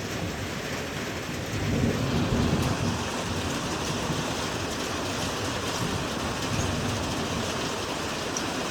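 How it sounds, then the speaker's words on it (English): Steady heavy rain pours throughout during a hailstorm, with a low rumble of thunder swelling early on and another fainter roll later, no voices. "here comes the thunderstorm"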